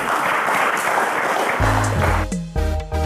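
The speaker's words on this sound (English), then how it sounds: "Ladies and gentlemen, a round of applause for Raphael." A studio audience at a televised quiz show applauds a contestant, a dense wash of clapping that is soon overtaken by loud music stings.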